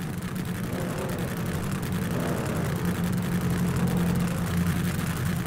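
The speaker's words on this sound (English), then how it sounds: "There's literally a helicopter landing." A life-flight helicopter landing beside a drag racing event, heard as a continuous loud, low engine and rotor roar that holds steady throughout without a break.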